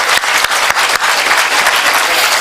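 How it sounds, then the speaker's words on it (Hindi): Vigorous, dense applause from the crowd at a JNU Urdu-Hindi poetry mushaira, loud and close, with several sharp individual claps punctuating a continuous wash of hands. "आप सब लोगों के लिए एक बार खुद जोरदार तालियां बजा दीजिए"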